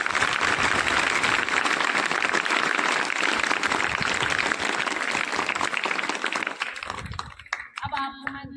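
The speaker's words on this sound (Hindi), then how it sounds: "तालियां बजाइए।" An audience claps in a dense, sustained wave of applause that holds steady for several seconds, then thins out and fades into quieter room noise.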